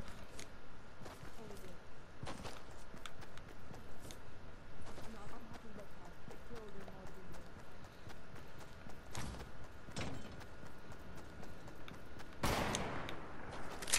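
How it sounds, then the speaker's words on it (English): Gunshots ring out during a Fortnite sniper shootout, scattered sharp cracks over a steady clatter of footsteps and game noise, with players talking throughout. "Is that you shooting?"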